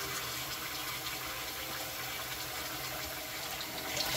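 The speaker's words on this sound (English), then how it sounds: "so I let all that yellow water out the sink" Turmeric-tinted yellow water drains out of a sink in a continuous, close gurgling rush that stays even throughout and has no voices over it.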